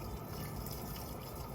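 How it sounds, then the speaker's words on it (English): A Maytag Bravos XL washer filling with water gives off a steady, even rush of running water that holds at one level throughout, fairly quiet and close, with no talking over it. "hopefully you can hear it filling up with water"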